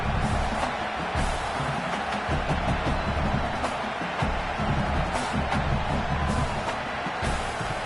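Football stadium crowd at an Ohio State versus Texas game roaring steadily before a field goal attempt, a dense, loud wash of cheering and shouting that never lets up.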